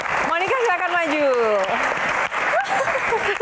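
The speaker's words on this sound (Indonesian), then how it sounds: "Tepuk tangan dulu dong" Applause greets a Miss Indonesia contestant at a Q&A event, a mid-level wash of clapping running beneath a host's lively amplified voice and cheering.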